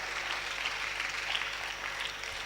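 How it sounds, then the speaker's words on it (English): A school audience of students and teachers applauds steadily for an arriving guest speaker, a dense, even wash of clapping throughout, fairly quiet and with no talk over it. "Let's keep clapping until he gets here"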